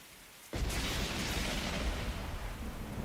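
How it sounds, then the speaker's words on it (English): A lightning strike tears open with a sudden loud crack in The Hundred Line: Last Defense Academy, then a broad rolling thunder roar holds on for the rest of the moment. "there was a sound like the sky ripping apart and a blinding flash of light"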